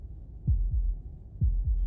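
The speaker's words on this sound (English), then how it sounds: "That was the sound of a heartbeat," A heartbeat sound effect in the video game Slay the Princess, two pairs of deep, loud lub-dub thumps close together, with a pause between the pairs and nothing else over them.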